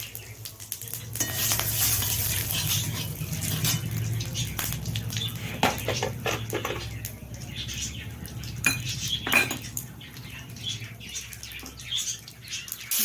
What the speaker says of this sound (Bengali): এবার ছেড়ে দেব গোটা মশলাগুলো